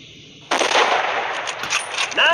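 A single loud, close gunshot fires in the Hunting Sniper mobile video game, a sharp blast that rings out and fades over a couple of seconds.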